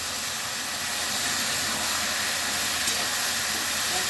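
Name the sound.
boiled taro and green chillies sizzling in pan with prawns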